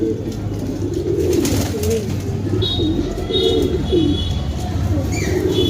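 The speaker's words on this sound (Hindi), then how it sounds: "मैं कह रहा हूँ यार कबूतर डर क्यों रहे हैं ये" Pigeons cooing repeatedly on a rooftop, close and clear over steady outdoor background, with brief chirps from other birds.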